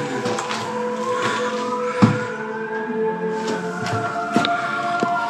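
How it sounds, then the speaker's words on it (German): Sirens wail outside an abandoned building, a steady, slowly sweeping tone heard from indoors, with a few sharp knocks and clatters nearby. "diese Sirenen, ne? Das ist ja wild."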